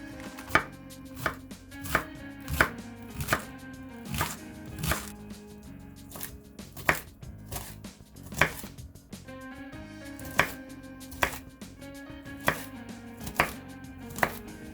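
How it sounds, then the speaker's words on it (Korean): A knife chops napa cabbage on a cutting board in a steady, rapid rhythm of sharp, close thuds, continuing evenly throughout with no talk. "배추를 다져 주시고요"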